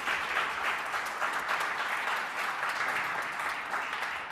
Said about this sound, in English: Shall we give Chidi another round of applause?